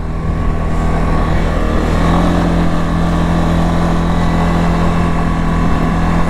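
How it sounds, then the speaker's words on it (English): A 2023 CFMOTO CFORCE 625 ATV engine revving high while riding, a loud, steady drone with a pitch that rises partway through and holds. "Yeah, see, it revs a bit."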